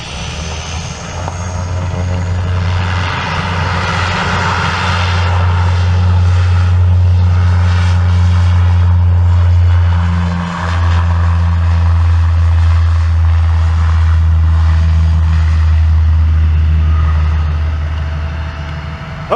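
An airliner's jet engines roar loudly and steadily during takeoff, holding a sustained, powerful rumble for nearly twenty seconds before easing slightly at the end.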